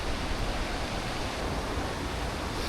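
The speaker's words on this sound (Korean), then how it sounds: "폭포가 보입니다." Steady, full-bodied roar of a waterfall in Sri Lanka, heard from a moderate distance as continuous broadband rushing water, constant and unbroken with no voices.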